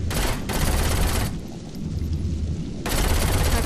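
Sustained automatic gunfire of flaming bullets from the video game Saints Row IV roars in dense, continuous bursts, pausing briefly before resuming at full loudness.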